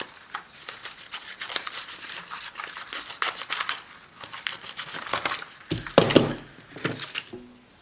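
Multi-tool scissors from a Bibury and a Leatherman Surge snip through material in a fast run of crisp, close cuts with crinkling, growing slightly louder near the end.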